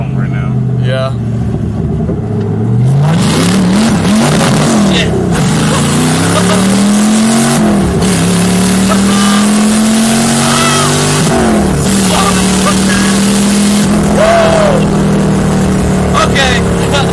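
An LS V8-swapped all-wheel-drive Subaru WRX accelerates hard in loud, rising engine pulls, the pitch climbing through several gear changes, with a voice speaking over the roar.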